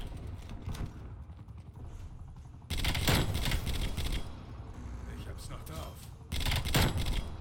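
Gunfire bursts from a weapon at medium range in the multiplayer shooter Call of Duty Black Ops Cold War, loud rapid volleys in two main bursts with mechanical clatter and a voice talking throughout.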